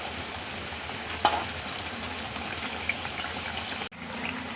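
Mini bread pakoda frying in hot oil gives a steady close sizzle and bubbling, with a couple of soft clicks from handling the pan and no voices.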